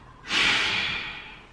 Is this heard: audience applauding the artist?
no